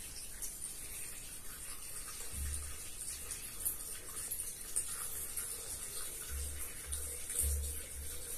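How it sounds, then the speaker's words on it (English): A water and soil sample is poured into a small water purification filter, giving a quiet continuous trickling pour with light splashing and a few low bumps. "Then we pour this water sample into our water purification system."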